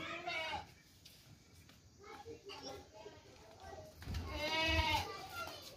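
At a Pakistani goat market, a goat gives a couple of nearby bleats, a short one and then a longer wavering one, mixed with people talking.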